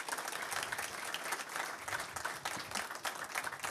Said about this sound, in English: let's give all four candidates a big round of applause